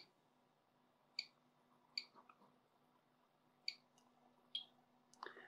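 RD6006 adjustable bench power supply clicking at its current limit, about five sharp, quiet clicks spaced irregularly over a faint steady hum, with no talking.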